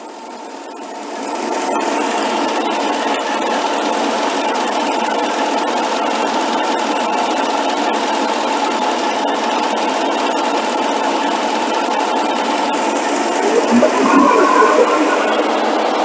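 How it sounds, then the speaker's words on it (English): Extra electric cooling fans for the air conditioning on a Chrysler 300C whir steadily as a loud, constant broadband rush, with a brief swell near the end. "the extra fans came on for the air conditioning system to cool it down"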